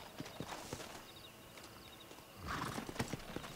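In Red Dead Redemption a called horse arrives with a run of hoofbeats clip-clopping closer, then a brief whinny and snort as it comes up, all fairly quiet.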